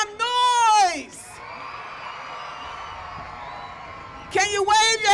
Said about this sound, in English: Can you make some noise?